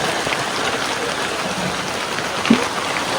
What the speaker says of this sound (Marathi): पाऊस पडायला लागला.